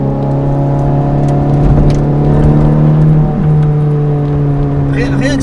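Ferrari 430 Scuderia engine idling along at low speed, a steady raspy, metallic drone with strong low harmonics that holds constant, close and loud throughout.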